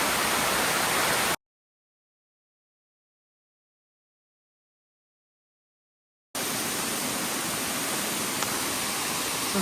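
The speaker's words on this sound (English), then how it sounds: "Very cool waterfall." A waterfall on Mt. Moosilauke gives a constant, dense hiss of rushing water close by. It is cut by a silent gap of about five seconds, then resumes just as steady.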